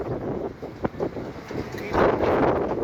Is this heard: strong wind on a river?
yes